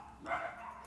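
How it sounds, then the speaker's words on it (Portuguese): Dogs let out a brief, faint burst of barking in the background, a single short yelp-like outburst lasting under a second. "Caramba, cachorrada!"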